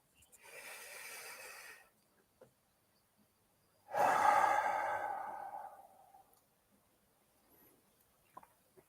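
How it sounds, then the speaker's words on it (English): A long, audible breath drawn in during a guided meditation, a soft airy inhale followed by a fuller, louder exhale, with quiet pauses around them. "So I'm going to take a deep breath in."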